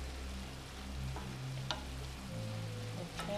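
Vegetables frying and cooking down in a pan, a quiet steady sizzle with faint low hum underneath and occasional soft clicks.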